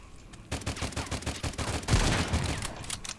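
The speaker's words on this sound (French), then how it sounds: "Ça tire là-bas" Bursts of automatic gunfire in the post-apocalyptic survival shooter Stalcraft X, rapid rhythmic shots in quick succession at moderate loudness, with a heavier volley near the end and no talking.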